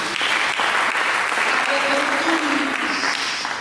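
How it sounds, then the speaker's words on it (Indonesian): A church congregation claps loudly during a sermon, continuous dense applause that fills the whole stretch without pause. "Berikan tepuk tangan bagi dia"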